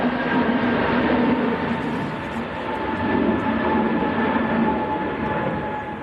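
EasyJet Airbus A320neo passing on windy approach at Manchester Airport, a steady broadband engine roar with sustained tonal whine, loud and close throughout with gusting wind, a voice talking over it.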